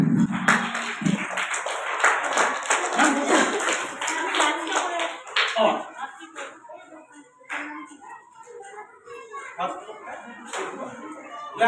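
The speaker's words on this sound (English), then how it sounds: "Clap your hand all." Audience applause at a 2025 academy prize distribution, a dense burst of clapping from many hands at the start that thins into scattered claps, with an announcer speaking over it throughout.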